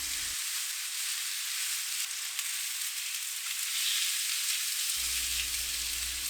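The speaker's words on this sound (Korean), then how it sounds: "새우를 넣고 구워요." Shrimp sizzle steadily in a garlic-scented pan for a quick garlic shrimp rice bowl, a dense, even crackling hiss heard alone at moderate loudness.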